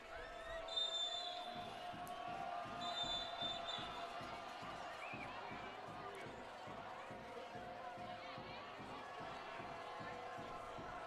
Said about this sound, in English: So a lot of crowd noise here at Knowles Field.